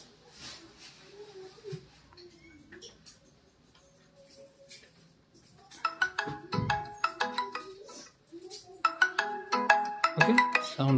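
A Poco X3 smartphone speaker, tested after a CPU IC and RAM repair, plays a ringtone: a quiet start with faint tones, then from about six seconds a louder, rapid run of bright repeated notes and ticking chimes.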